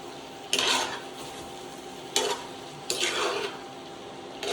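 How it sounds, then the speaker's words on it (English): A spoon stirring beef stroganoff in a pot and scraping the bottom, three distinct loud scraping strokes spaced apart over a faint, steady sizzle, close up with no talk. "I'm gonna stir it up a little bit. Alright, we got some good scrapey at the bottom for some flavor bits."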